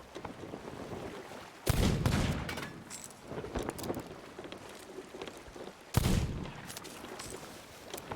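Gunfire in the pirate game Sea of Thieves: two loud, abrupt shots about four seconds apart, each a broad burst that rings out briefly over steady wind and sea ambience.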